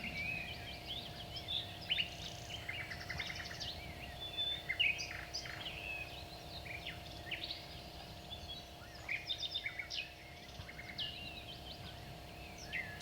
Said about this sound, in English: I found a cassette that contained only sounds of birds and animals.